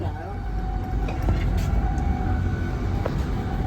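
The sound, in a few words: passenger train riding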